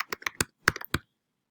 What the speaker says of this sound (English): and then you're going to type in your name.